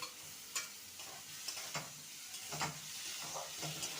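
Boiled potato pieces stir-fried with spices in a pan, a soft sizzle broken by repeated scraping and clinking stirs at an irregular pace, heard fairly faint and without talking.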